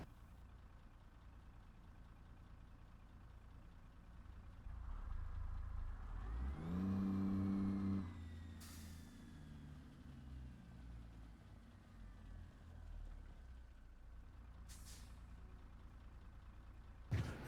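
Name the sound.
truck engine idling in American Truck Simulator video game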